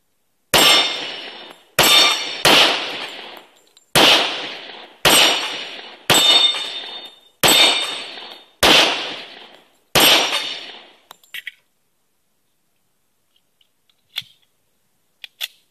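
Smith & Wesson TA Series E 1911 pistol fired while plinking, eight loud sharp shots at a steady pace of about one every second or so, each ringing out, followed by quiet with a few small clanks.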